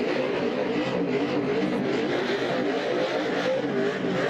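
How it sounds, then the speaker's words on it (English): Two race trucks doing a synchronized double burnout at the start-finish line after the 2009 Lucas Oil 150, a steady, loud engine roar with a gritty tyre-spinning rasp, held without a break, heard from some distance. "And you see the 2 trucks coming to the start-finish line, and I'm guessing a little double burnout here."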